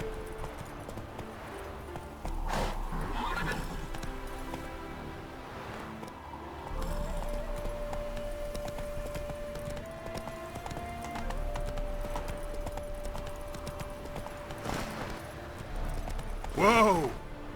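A horse in The Witcher 3 trots and gallops with steady clip-clop hoofbeats, ending in a loud neigh, while a voice speaks briefly over a music bed.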